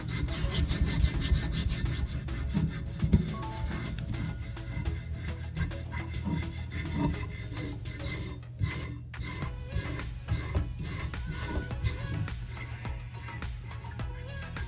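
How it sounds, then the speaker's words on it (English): A sublimation print is rubbed off a tumbler in steady, continuous scraping strokes, fairly close and even in loudness throughout, with no talking. "But I'm gonna rub this off."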